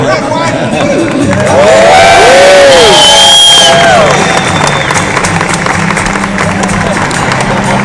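A large crowd in CFE Arena cheers and whoops loudly for George W. Bush, with shouts and whistles rising to a peak in the middle before settling into a steady roar.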